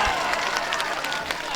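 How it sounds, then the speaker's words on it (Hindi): At a mushaira, an all-India poetry recital, the audience's applause comes as a steady wash of clapping from a crowd, heard at moderate volume throughout. "एक बार दोनों हाथ कर, जोरदार ताली मुशायरा कमेटी के दोनों हाथ कर।"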